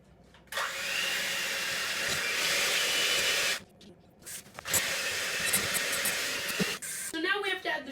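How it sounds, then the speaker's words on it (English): Butter is creamed with an electric mixer, which whirs in two loud, close, hissing bursts separated by a short pause, with faint clatter near the end. "It's time to cream this butter."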